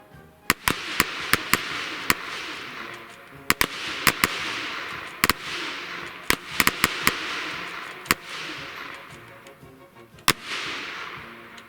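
Mk I Lee Metford rifles fire rounds during a firing exercise, sharp cracks going off singly and in quick clusters of two or three, loud and echoing across open ground, about twenty shots in all.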